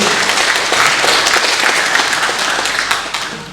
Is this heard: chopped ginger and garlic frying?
no